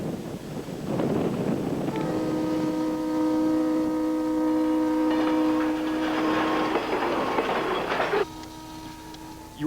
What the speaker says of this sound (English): The diesel engines are pulling 100 cars through a light rain.